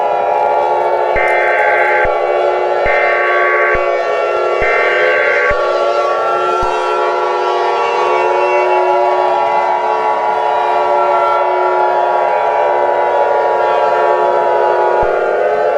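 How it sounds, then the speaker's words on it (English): An emergency alert scenario sounds loud sustained wailing sirens with overlapping rising and falling horn-like tones, joined early on by short repeated alert beeps, continuing steadily throughout with no talking. "oh no, there are sirens and another emergency alert"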